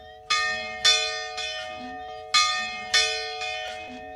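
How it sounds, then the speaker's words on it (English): Church bells in an 1860s church ring out in four loud, resonant strikes spaced roughly half a second apart, each with a long humming decay and no voices. "That was the first thing I wanted to try when I walked in here, is to see if the bells still work."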